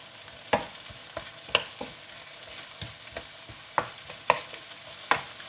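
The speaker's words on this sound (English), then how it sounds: "We're now starting to get a little bit of colour on these, so we need to keep cooking them until they're all nicely browned." Courgettes and onions browning in a frying pan, a low sizzle broken by irregular scraping and tapping as pieces are turned, several sharper knocks standing out, near and alone with no voices.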